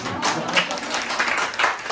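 An audience breaks into applause during a talk, a brisk patter of many hands clapping that stays fairly even for a couple of seconds.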